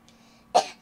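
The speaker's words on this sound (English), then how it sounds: "I just coughed." A single short cough from a man during a casual gaming discussion, one sharp close burst after a quiet moment.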